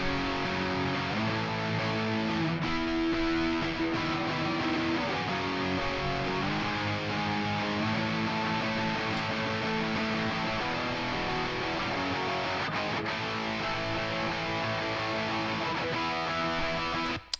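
Full pop punk production beat playing its pre-chorus section, a dense, steady mix of distorted guitars, bass and driving drums at constant loudness throughout, with no talking.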